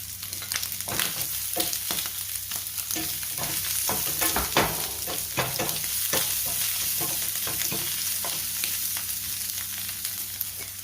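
Shiitake mushrooms stir-fried in a hot pan, a steady sizzle broken by repeated scraping and clinking strokes of a spatula, close and continuous with no talking.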